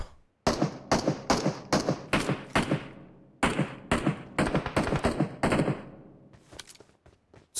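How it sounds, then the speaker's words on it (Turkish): SCAR rifle gunfire in a battle royale video game: loud, close bursts of rapid shots in two long volleys, then a few scattered, fading shots. "Scar'la vurdu ya adam."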